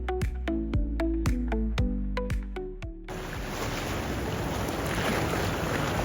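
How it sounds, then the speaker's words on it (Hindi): Waves and wind at Arambol rocky beach in Goa come in as a dense, steady wash of surf after a few sharp, ringing tonal hits at the start. "अब हम पहुंच गए हैं अराम्बोल रॉकी बीच पर।"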